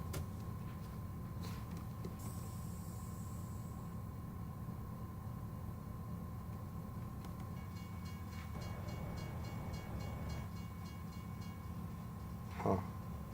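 A train in American Truck Simulator rumbles steadily at a distance, a faint continuous rail drone lasting the whole stretch with a brief higher horn-like accent near the end, no voices over it.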